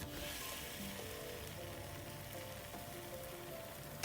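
Thin lacy crepes frying in a pan, a steady soft sizzle and crackle like light rain, continuous and fairly quiet with no talking.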